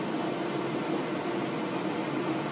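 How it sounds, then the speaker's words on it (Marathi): Sugar syrup for motichur laddu boils in a pan with a continuous, even bubbling hiss, steady and close throughout with no talking. "बघू शकता पाक छान प्रकारे उकळत आहे।"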